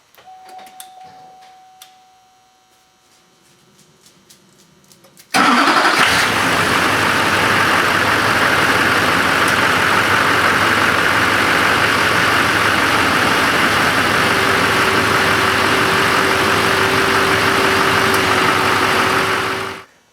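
After a few faint clicks and beeps, the heavy engine of a 2004 Chevrolet Silverado 2500HD truck cranks and catches abruptly, then idles loudly and steadily before shutting off at the end.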